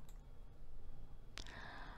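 A single sharp computer mouse click during accounting software work, preceded by a fainter tick; quiet, close and isolated, with no talking.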